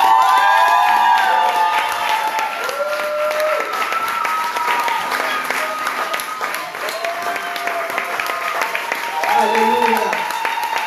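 A church congregation applauds and cheers loudly and steadily for about eleven seconds, with voices shouting and calling out through the dense clapping.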